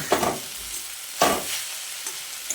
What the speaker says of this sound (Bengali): তারপর আবারও ভালোভাবে মিশিয়ে নিচ্ছি